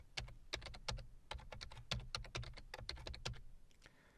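Quick, quiet keystrokes on a computer keyboard as a PowerShell command is typed, a rapid irregular run of close, crisp clicks with no voice over them.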